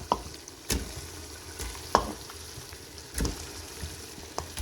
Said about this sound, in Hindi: ऑयल ऊपर आ गया है, अब हम इसमें अपना चिकन डालेंगे।